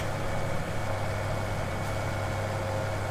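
A tractor engine idles in Farming Simulator 17, a steady, even low hum that holds without change and with no talk.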